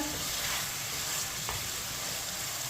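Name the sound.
chicken being fried and stirred with a spoon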